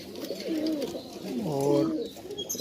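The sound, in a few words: Nawabi pigeons cooing in loft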